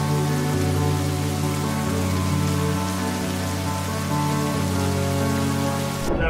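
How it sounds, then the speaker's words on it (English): Rain falling on a surface while schoolboys in Singapore shield passengers getting off with an umbrella: a steady, dense hiss of raindrops that carries on unbroken throughout, loud and close, with no voices. "These Singaporean schoolboys used an umbrella to shield all disembarking passengers from the rain."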